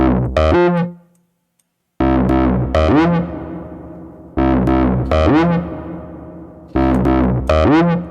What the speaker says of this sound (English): So you've got the reverb, chorus, and delay all going at once.